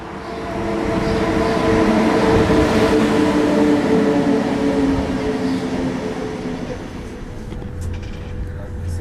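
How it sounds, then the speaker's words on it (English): A train rumbles into Landquart station, Switzerland, with a loud, steady low roar and metallic squealing tones, gradually easing off as it slows. "Look, ours is the next train."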